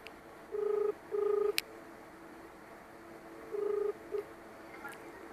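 A phone call rings out through a handset as a ringback tone: two long tone pulses, a pause, then two more. The pulses are clear and close over quiet background hiss.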